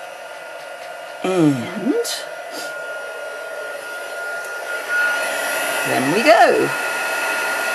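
A heat gun blows steadily under a desk to melt embossing powder for a gift card holder, a constant airy whoosh throughout with a brief spoken phrase near the start and light handling noises.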